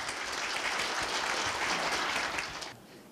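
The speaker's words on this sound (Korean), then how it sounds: "다시 한번 큰 박수 부탁드리겠습니다." Dense, steady applause from an audience at a Korea University labor culture award ceremony, a hall full of clapping hands that fades out near the end.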